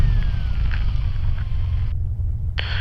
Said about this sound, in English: let's just check she idles at 5 to 800 RPM